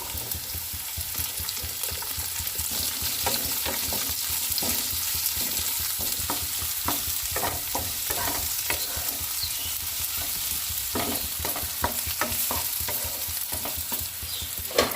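Onions with chopped green chillies fry in a pan for pasta, giving a steady, close sizzle throughout, broken by frequent scraping stirs and small crackles, with no voices.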